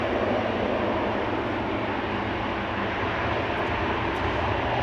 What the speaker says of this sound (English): KLM flight 877 to Mumbai, 787-10 Dreamliner in the background